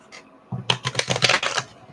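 A tarot deck is shuffled by hand, giving a quick burst of crisp riffling card flutters that starts after a brief pause and runs for over a second before trailing off.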